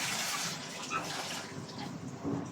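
Water pours steadily into a container, a continuous rushing gush with no break and no voices.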